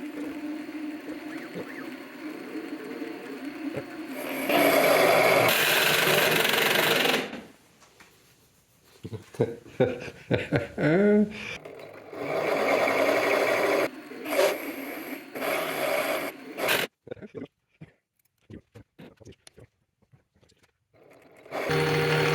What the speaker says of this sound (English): I got the CNC lathe running again, and we're gonna do it on the CNC lathe